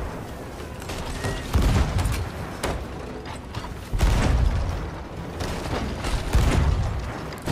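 Heavy ship cannon booms and crashing impacts in Sea of Thieves recur every couple of seconds over a constant rumbling, mechanical background.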